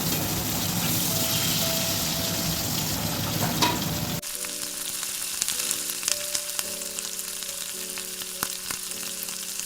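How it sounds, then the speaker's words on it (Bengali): Pabda fish fries in oil with a bright, continuous sizzle that becomes quieter and more spattery partway through, accompanied by a steady tonal hum. "আমি আর একটু ভেজে নিচ্ছি। আমার মাছটা ভাজা হয়ে গেছে।"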